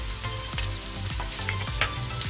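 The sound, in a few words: tagliatelle being mixed in a pot with onion and cream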